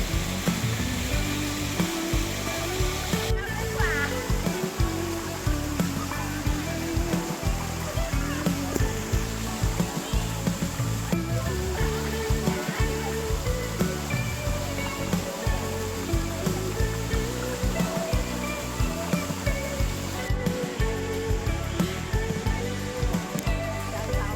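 Khlong Kaeo waterfall in Bo Rai, Trat, Thailand, roars in a loud, constant rush of water that fills the whole scene.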